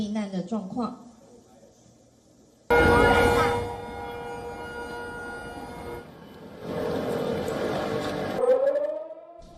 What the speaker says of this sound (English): The streets fell silent as the sirens wailed